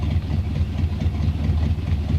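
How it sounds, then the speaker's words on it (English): A 1970 AMC Javelin Donohue edition with a 390 V8 idling, its exhaust giving a low, steady, slightly lumpy rumble close by, with no talking. "A little bit of lump in the exhaust, like a 390 should have."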